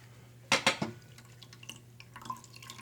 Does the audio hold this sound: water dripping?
yes